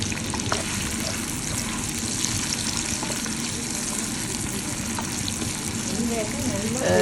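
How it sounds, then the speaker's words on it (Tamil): Sliced onions with fennel seeds sizzle and fry in a pan, a dense steady crackle that stays loud throughout. "பெருஞ்சீரகம் போட்டு அதுக்கு மேலால் வெட்டி வச்சுக்கிற வெங்காயங்களை போட்டு வெங்காயம் ஓரளவுக்கு வதங்கி வர"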